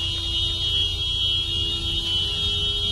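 A continuous electronic alarm tone, steady and fairly loud, rings on without pause near a car crash scene in winter, over a low background hum with no talk.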